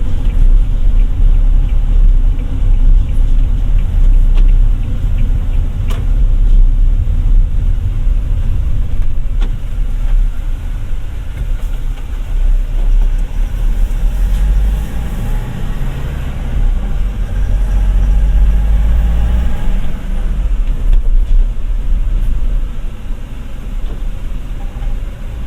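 A 2025 Toyota Tamaraw with a 2.4-litre diesel engine on a test drive: a loud, steady low engine drone and road rumble heard from inside the cabin, holding constant throughout with no talk.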